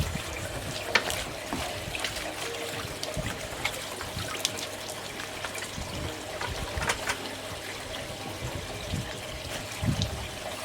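Water trickling and splashing into a fish tank beside a small koi pond, a quiet, continuous dribble with irregular soft splashes and no talk.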